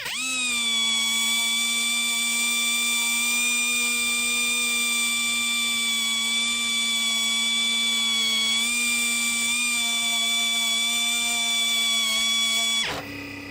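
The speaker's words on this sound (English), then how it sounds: "I'm sanding with 80 grit." 80-grit sandpaper worked by power sander across a car door on a 1937 Pontiac, a steady high-pitched whine holding level for about thirteen seconds before stopping abruptly, no voices.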